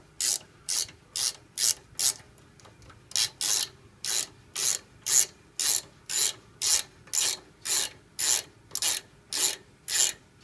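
Ratchet wrench working the rear brake caliper bolts on a 2002-03 Acura TL Type S, a loud, close, regular clicking in steady bursts of quick strokes, with a brief pause partway through and no talking.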